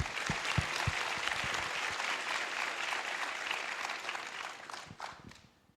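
Attendees at a school board of education meeting clap for honored seniors, a steady patter of applause with a few sharp nearby claps, fading out toward the end.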